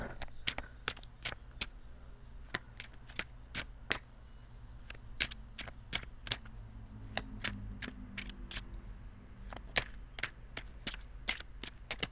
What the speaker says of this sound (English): I'm going to shuffle the cards for the outcome.